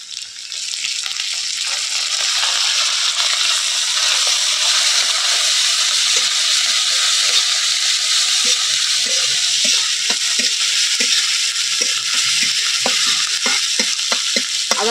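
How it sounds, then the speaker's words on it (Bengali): Garlic and chopped ginger fry in hot oil in a pan, producing a loud, even sizzle that runs throughout, with faint stirring taps toward the end. "আদা রসুনটা ভাজা হয়ে গেছে"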